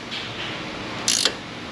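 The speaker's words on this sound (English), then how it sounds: "I will secure the bolt with the other ratchet and then use this ratchet to create some" A ratchet turns a bolt on an engine crankcase, giving a quick burst of metallic clicking over faint background noise, brief and close.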